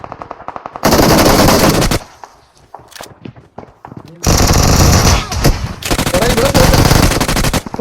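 Automatic UMP45 submachine gun fire in the mobile shooter BGMI during a squad fight, loud rapid bursts in two long stretches separated by a quieter gap of scattered shots and footsteps.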